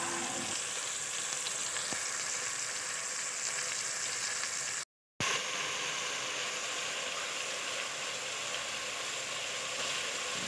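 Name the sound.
tomatoes and green chillies frying in onion garlic ginger paste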